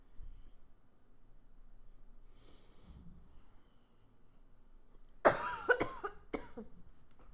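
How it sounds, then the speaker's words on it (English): A few sharp, close coughs in quick succession near the end, following several seconds of quiet background murmur. "If I just cough a lot."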